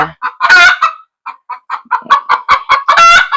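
A rooster crows loudly up close, with a run of short, repeated clucks between two long crowing calls.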